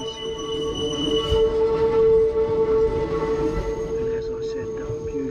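A Hakone Tozan line train in Japan runs with a steady electric whine and rumbling wheels, moderately near, with a faint voice in the background.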